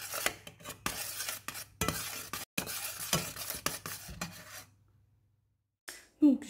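Ingredients for shortbread biscuits being stirred as they melt in a pan, with a steady series of scraping, clinking strokes close by, then a pause to near silence and a brief final knock.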